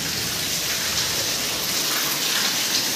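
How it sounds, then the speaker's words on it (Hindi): Heavy rain pours down in a dense, continuous hiss that stays steady and loud throughout, with no voices. "मोट बारिश, चलो देखते हैं बारिश।"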